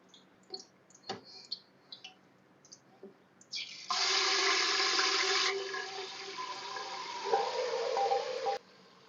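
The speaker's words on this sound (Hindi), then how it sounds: "इसी में थोड़ा सा पानी डाल दिया," Water poured into a pot of marinated beef frying with garam masala, a steady rushing splash of several seconds that sizzles on under faint kitchen clatter.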